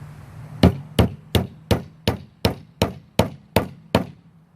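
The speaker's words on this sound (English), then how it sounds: "just go ahead and shoot some nails, one in each corner" Nail gun driving nails into the corners of a wooden bottle display box, ten sharp percussive shots in a steady, evenly spaced rhythm, close and loud with nothing else behind them.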